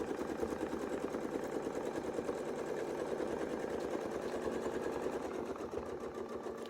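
A sewing machine stitches a long continuous line across a quilt guided by a circular wreath template, its rapid steady needle chatter running close and loud for the whole stretch without pause.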